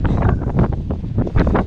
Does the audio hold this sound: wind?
yes